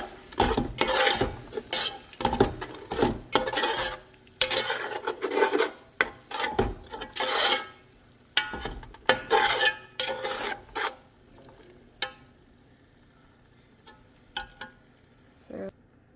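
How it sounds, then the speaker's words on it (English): Cooked meat being stirred and mixed into a masala gravy for biryani, giving a series of close, uneven scraping and rubbing strokes in a pan, busy at first and then thinning to occasional stirs. "I've added in the meat, the cooked meat now. With the masala, just mix everything."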